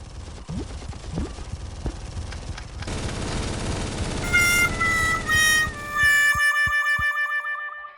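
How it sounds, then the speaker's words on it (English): Rapid bursts of gunfire in the mobile shooter game Chicken Gun, with dense volleys of shots followed by bright electronic chimes and tones before a sudden cut to near silence. "Taking fire! Need assistance!"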